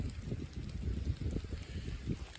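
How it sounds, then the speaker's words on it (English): Steady blustery wind roars low and constant, with rain patter mixed in, on the Appalachian Trail in cold, wet weather; no voices, just continuous outdoor noise. "it's raining, it's cold, it's really windy"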